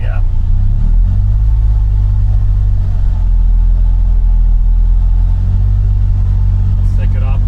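A Polaris Ranger Northstar utility vehicle's engine gives a loud, steady low rumble up close, holding fairly even throughout with slight swells, while a voice talks over it.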